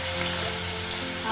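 Garlic paste frying in a hot pan, a dense, steady hiss of sizzling oil, close and loud throughout the short moment with no voices.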